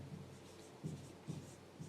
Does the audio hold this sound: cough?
no